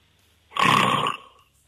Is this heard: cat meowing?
no